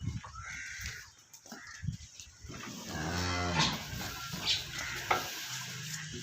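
Sahiwal-Jersey cross dairy cow on a farm in Arifwala lowing with one loud, drawn-out moo in the middle, surrounded by quieter shuffling, chewing and rustling sounds nearby.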